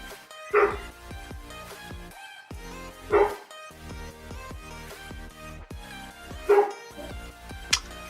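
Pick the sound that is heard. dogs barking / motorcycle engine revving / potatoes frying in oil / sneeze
dogs barking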